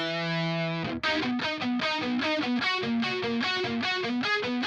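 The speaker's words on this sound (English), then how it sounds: "Starts to really kind of flatten out there until it goes into that distortion." Distorted guitar-like synth line run through the Analog Obsession Transature transformer saturation plugin, a sustained chord giving way to a rhythmic series of bright, crunchy plucked notes, loud and upfront with no talking.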